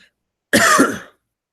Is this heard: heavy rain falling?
no